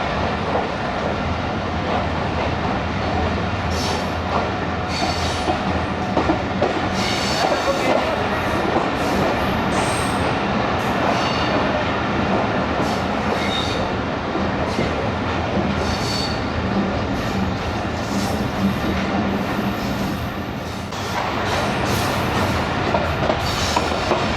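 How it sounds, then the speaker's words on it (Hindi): Bulleh Shah Passenger train running through Lahore Cantt railway station without stopping, a loud, steady roar of wheels and carriages with rhythmic clickety-clack and occasional metallic squeal, continuous throughout. "दोस्तों लाहौर कैंट रेलवे स्टेशन से गुज़र गई है ट्रेन, स्टॉप नहीं है इधर।"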